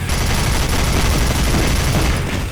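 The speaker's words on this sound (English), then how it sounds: "Pair that with the Riveter and a bunch of missiles" Heavy, continuous barrage of explosive fire from the Riveter missile launcher in the first-person shooter DUSK, loud and unbroken across the whole stretch, with no speech.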